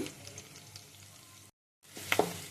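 Onions and green chillies fry in a pan with a soft, steady sizzle, broken by a short gap and then a brief stir or clatter.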